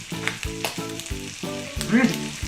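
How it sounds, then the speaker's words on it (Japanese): Garlic fries in butter with a close, crackling sizzle, while short tonal bursts and brief bubbling pops rise and fall through the steady hiss. "もうガーリックのバター揚げになってますから"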